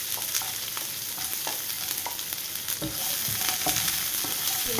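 Small shallots go into hot oil where mustard seeds are spluttering, giving a close, continuous sizzle with scattered sharp pops and crackles as they are stirred; nobody speaks.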